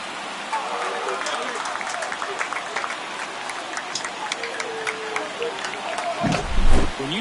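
A crowd cheers after a home run in an MLB The Show 24 baseball game, Nationals at Dodgers, producing a sustained roar with scattered claps and whistles beneath it, ending in a brief low rumble.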